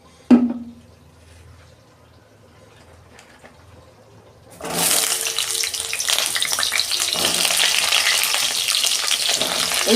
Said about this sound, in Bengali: তেল দিচ্ছি, পটলটা ভাজবো।